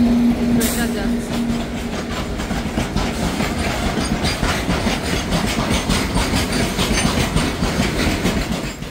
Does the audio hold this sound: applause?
no